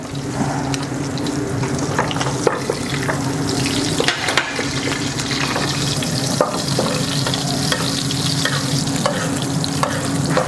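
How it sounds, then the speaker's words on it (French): Aged beef sears loudly in a pan while it is basted, giving a dense, continuous crackling sizzle and wet spattering with occasional spoon clinks, close and full throughout. "Et là on va nourrir la viande, voilà, on nourrit."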